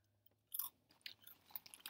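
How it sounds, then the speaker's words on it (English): Close, quiet chewing of whole grain Cheerios cereal, with crisp crunches and irregular munching bursts heard up close and alone after a brief moment of near silence. "munching on whole grain Cheerios"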